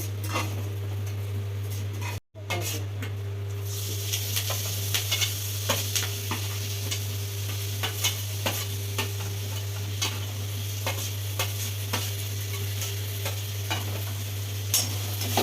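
Lentils, black gram, cumin, dried and green chilies and asafoetida frying in oil, a constant close sizzle broken by regular scraping stir strokes and light utensil clicks, with a steady low hum underneath and a brief dropout early on.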